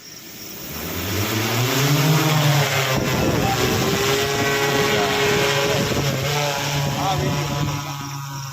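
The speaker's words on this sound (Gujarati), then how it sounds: "તો મિત્રો જો હવે આપણે ડ્રોન કેવી રીતે ઉડે છે" An agricultural spraying drone flies over a crop field, its propellers making a loud, steady buzzing whine that climbs in pitch as it rises and holds close by.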